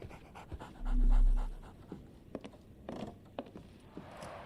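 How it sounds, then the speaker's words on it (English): A dog pants in the Sherlock Holmes: The Awakened video game, quick close breaths in an uneven rhythm with a low thump and faint shuffling beneath, no voices. "So, Barnes has a dog now."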